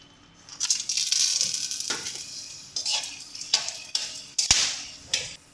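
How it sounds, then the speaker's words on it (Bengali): Whole garam masala of bay leaf, cloves, cinnamon, dried red chilli, peppercorns and cardamom hits hot oil for a banana flower curry, with close bright sizzling bursts and a few sharp clinks of a utensil against the pan. "তো চলো প্রথমে আমরা ফোড়ন দিয়ে দিচ্ছি যে গরম মশলাটা দেখিয়েছিলাম, তেজপাতা, লবঙ্গ, দারচিনি, শুকনো লঙ্কা, গোলমরিচ, এলাচ সমস্ত কিছু"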